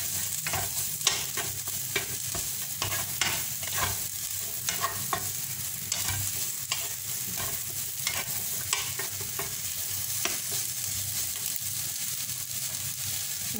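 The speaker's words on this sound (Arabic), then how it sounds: "نزيدو الفلفلة، غادي نشحرو هادشي مزيان" Peppers sautéing in a pan for a potato gratin, a steady loud sizzle with frequent scraping stirs and light clicks throughout.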